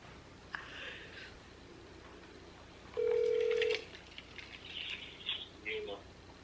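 An outgoing telephone call rings late at night. A single steady ringback tone sounds for under a second midway through, set against quiet room hiss and a few faint high chirps.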